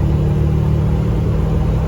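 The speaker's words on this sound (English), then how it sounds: "here's the exhaust clip" Duramax diesel truck exhaust on tune 2, a loud, deep steady idle rumble close by, droning evenly without revving.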